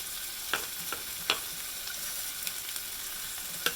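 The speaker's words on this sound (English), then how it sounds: "I'm going to put my green peppers in there slowly, making sure I don't dump them all" Green peppers sizzle steadily in a large saucepan, a soft continuous frying hiss broken by a few sharp clinks and scrapes as pieces go in and get stirred.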